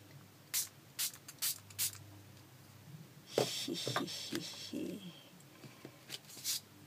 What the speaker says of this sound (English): I'm going to spray a little bit